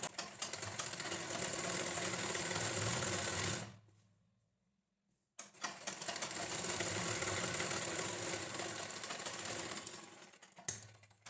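A sewing machine stitches a lined blouse in two bursts of rapid, buzzing stitching, close and loud, separated by a short silent pause, with a brief trailing whir at the end.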